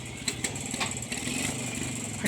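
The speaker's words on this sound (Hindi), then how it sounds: "अरे पतिदेव जी बाइक से जा रहे हैं, नहीं जाएंगे कार से, फटफटी से जाएंगे।" The husband's motorcycle running as he rides off from home, a steady mid-pitched engine putter with small throttle bumps, close by and alone.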